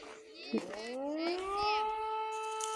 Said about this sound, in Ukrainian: зараз і в нас буде гудіти сирена